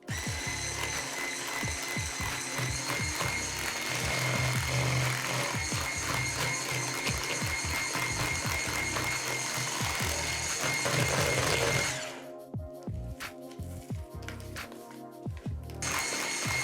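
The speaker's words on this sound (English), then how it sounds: "Add the third egg and whisk." Eggs are whisked steadily into almond cookie batter in a bowl, a dense continuous rattling and scraping that runs for about twelve seconds before dropping to quieter clinks and background noise; no one speaks.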